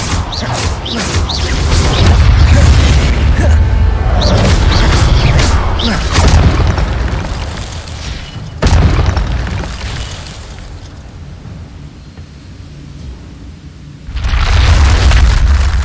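Casting the Expelliarmus disarming spell in Hogwarts Legacy sets off heavy booming blasts and whooshes. A long, loud stretch of rumbling magic fades into a quieter lull before another burst.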